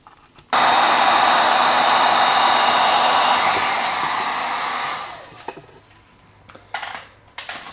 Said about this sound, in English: slide your heat shrink over your brass fitting, get it kind of in the center, and then we're going to heat it up and shrink it down